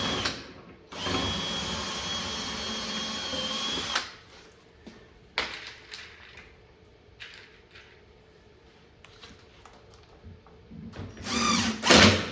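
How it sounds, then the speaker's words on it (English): A power drill drives screws into the top of a Pac-Man arcade cabinet under construction: one long loud whir of about three seconds, then quieter scraping, clicks and handling noises, and a final short burst of drilling at the end. "Now I'm going to put a couple screws through the top, if I can get my drill in there."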